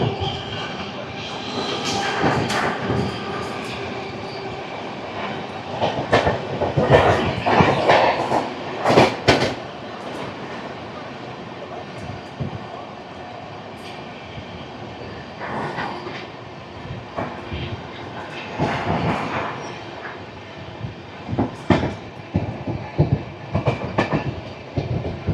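The Toofan Duronto express races through Lingampally station without stopping, a loud, steady rumble of wheels and rail clatter with sharp rhythmic clacks as carriages pass close by.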